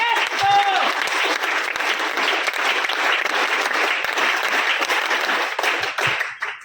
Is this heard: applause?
yes